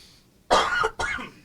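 Two quick, harsh coughs from one person, close to the microphone, the second slightly shorter after a brief gap, in an otherwise quiet setting.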